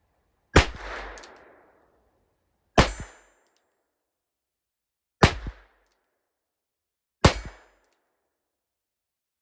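Four sharp .22 LR shots from a Charter Arms Pathfinder snub-nose revolver fired in single action, evenly spaced about two seconds apart, each a loud crack with a short ringing decay, no talking.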